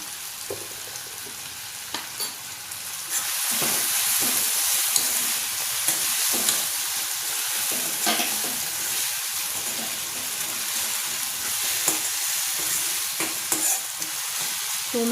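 Crushed garlic cloves sizzle steadily in hot oil in a pan for a spinach dish, a loud continuous frying hiss with occasional stirring scrapes, close up and without talk.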